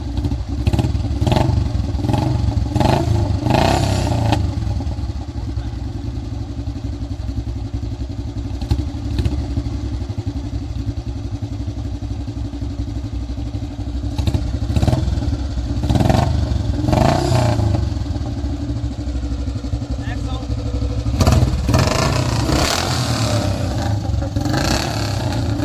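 A 1999 or 2004 Royal Enfield Bullet motorcycle thumps loudly up close, its old single-cylinder engine idling with a heavy rhythmic beat and revving in bursts with throttle blips.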